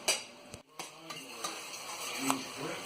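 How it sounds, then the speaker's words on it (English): Tomatoes and oil cooking in a pan for chana masala, a soft steady sizzle with a few faint clicks and stirring taps, quiet and close. "let this cook until the tomatoes get softened a little bit and the oil gonna separate"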